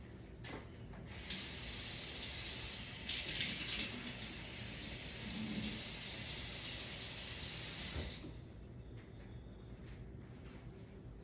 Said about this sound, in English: Now we're going to pour a cup of cold water in.